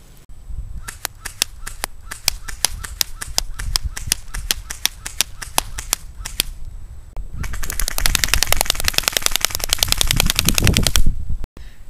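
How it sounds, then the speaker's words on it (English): An ICS L86 airsoft gun fires .25 gram BBs, first as a string of sharp, evenly spaced single shots, then as a long rapid full-auto burst, loud and close. "Keep in mind the gun fires at 400 feet per second with a .2 gram BB"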